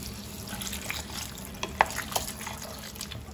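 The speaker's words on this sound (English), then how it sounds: "Now we add in 1 cup of water." One cup of water is poured into a pan of Goan potato bhaji, a soft, steady splashing and sizzling wash with a few brighter drips and clinks partway through.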